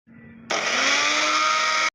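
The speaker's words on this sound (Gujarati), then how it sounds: "આપણે ઓલા મિક્સરમાં કર્યું છે, જોઈએ કેવું થાય છે" A mixer grinder chops capsicum and carrot, starting with a low hum before the motor suddenly roars up into a loud, steady whir that runs for over a second and then cuts off.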